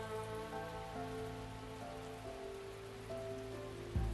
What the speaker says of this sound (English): The rain continues to come down hard.